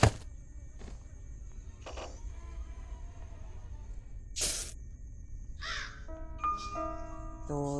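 A crow caws in the Granny video game, a few harsh calls spaced apart against a quiet background, with short thumps and other game effects near the end.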